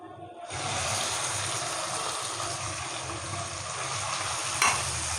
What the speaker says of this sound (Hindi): इसको अच्छी तरह हम अपने चिकन को फ्राई कर लेंगे।